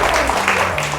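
Audience applause at a live mentalist stage show, a dense steady wash of clapping from a crowd, loud and continuous throughout.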